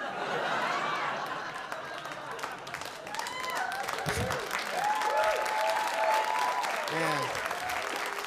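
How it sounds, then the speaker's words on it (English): An audience at a stand-up comedy show applauds, a dense, sustained clapping that fills the room, with a comedian's voice and a few whoops and chuckles over it. "Yeah, clap now."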